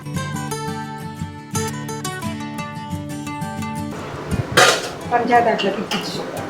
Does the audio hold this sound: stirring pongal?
yes